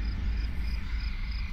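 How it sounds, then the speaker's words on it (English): Steady insect-like chirping from crickets in the World of Warcraft zone Tiridgarde Sound, a soft continuous trill repeating in short regular pulses over a low ambient hum, with no talking. "Oh, the crickets are back."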